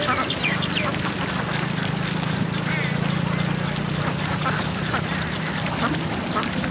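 Ducks in a Bangkok rice field quack steadily in a flock, close and continuous over a low engine-like drone, with a voice talking in the background.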